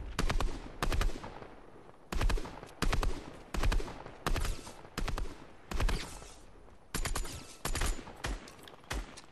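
Loud bursts of video game gunfire repeat in rapid automatic volleys with short gaps between them, filling the clip.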